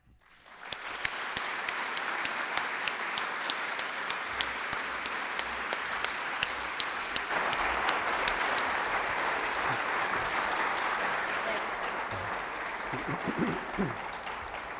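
An audience in a lecture hall applauds to welcome a lecturer, giving steady, dense clapping that begins quickly and holds for well over ten seconds at an even level. A few sharper individual claps stand out, and the applause softens slightly near the end.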